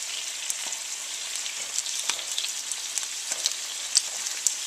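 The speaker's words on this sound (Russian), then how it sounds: "Но сначала я жарю кабачки, а потом отдельно буду жарить лук." Sliced zucchini sizzles and crackles steadily in a frying pan, a close, continuous bright hiss with scattered small pops and spatters throughout, no voices.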